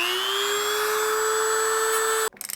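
Metal is ground off the top of a Honda XR250R dirt bike shock rod, a loud steady high-pitched whine with a constant tone for about two seconds, then abruptly cut off and followed by a few rattling clatters.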